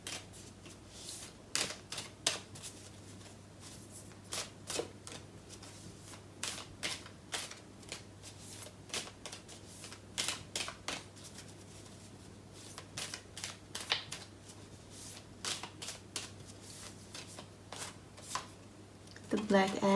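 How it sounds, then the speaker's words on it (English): Tarot animal spirit cards being shuffled by hand, a run of soft papery riffles and flicks repeating close to the listener, fairly quiet, with no one speaking. "I'll pull some animal spirit cards for you."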